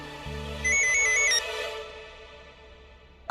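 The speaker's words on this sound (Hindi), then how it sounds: "मैडम का फोन" A mobile phone ringtone plays a bright repeating electronic melody for about a second, close and clear, over a low steady background hum before it cuts off.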